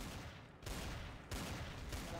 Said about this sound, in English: Sounds like a shotgun.